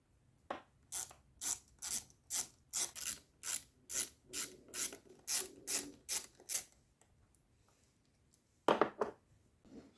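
About fifteen quick ratchet clicks in a steady rhythm loosen the crankcase bolts on a Honda Vision scooter, close and crisp, followed by a pause and one last short ratcheting burst.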